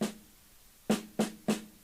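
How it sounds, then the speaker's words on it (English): A snare drum is struck normally, once and then three more times after a pause, each hit a short, punchy crack with a ringing body, clear and close. "a normal snare drum will sound like this"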